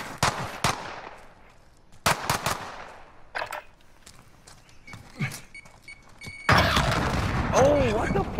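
Shotgun slug shots in a video game crack out as a series of sharp, loud reports spaced a second or so apart, followed by a denser burst of noise, with a voice talking between shots.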